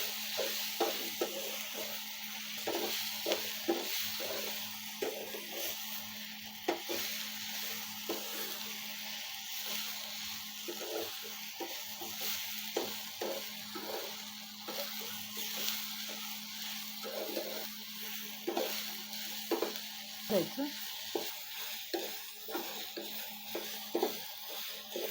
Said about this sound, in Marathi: टोमॅटो थोडा नरम होईपर्यंत भाजून घ्यायचा आहे